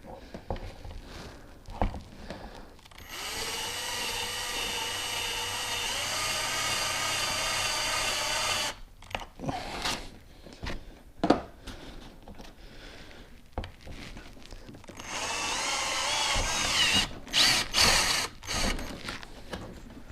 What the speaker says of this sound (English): I'm drilling holes in my boat right now